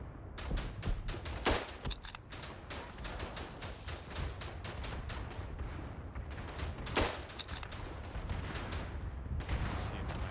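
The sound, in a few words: gunfire and artillery in video game Verdun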